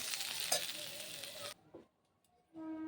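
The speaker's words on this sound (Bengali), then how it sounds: "এই যে আলু এঁচোর দুটোই ভাজা হয়ে গেল" Young jackfruit and potato pieces finish frying in a pan with a busy close sizzle and a utensil clink, then it cuts to near silence before a softer hiss and a faint tone return.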